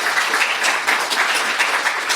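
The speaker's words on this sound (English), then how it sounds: "Why don't we give them a round of applause for the hell of it?" A short, steady burst of clapping from a small group, even and continuous for about two seconds with no talk over it.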